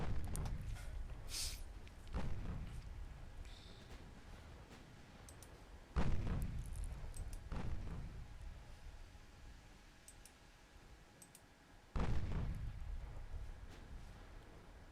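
Naval guns firing in the warship strategy game Ultimate Admiral Dreadnoughts, faint distant booms spaced a few seconds apart, with two sharper heavy blasts standing out over a low rumbling background.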